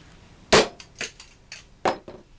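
A metal hammer strikes a plastic toy car, with several sharp cracking hits in an uneven rhythm, two loud blows and smaller taps between.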